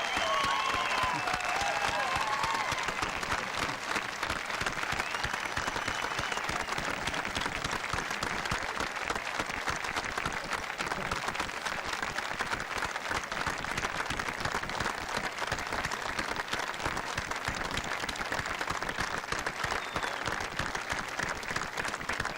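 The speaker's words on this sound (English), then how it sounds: "Could we all join one last time in applauding the class?" Loud, sustained applause from a commencement audience at Berwick Academy honoring the graduating class, dense steady clapping filling the hall without a break from start to finish.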